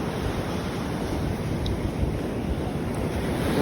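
Ocean surf at Atlantic Beach, a loud continuous roar of breaking waves mixed with strong wind buffeting the microphone, with no voices.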